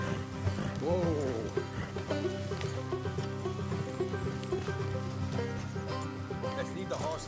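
Horses in the video game Red Dead Redemption 2 give a whinny and snort beneath a steady game soundtrack, with voices talking over them.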